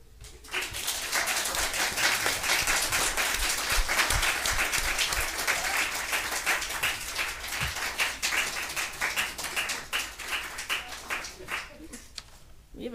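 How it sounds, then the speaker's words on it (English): A room full of people applauds after a town council vote on a plastic bag law, a steady wash of dense clapping at moderate volume that thins into scattered claps, with a few faint voices underneath. "We haven't been applauded for much lately"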